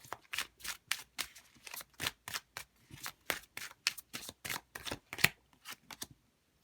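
Tarot cards are shuffled and drawn in a quick run of crisp riffling snaps and flicks, close and fairly quiet. The bursts come in an irregular rhythm with a few short pauses.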